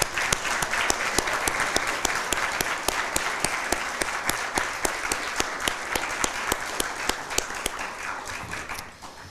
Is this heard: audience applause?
yes